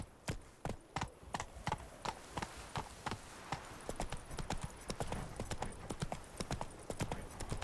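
Horse hooves clip-clopping in The Witcher 3: Wild Hunt, a steady, even trot of crisp hoofbeats that quicken and thicken into a faster gait, moderately close over a low background.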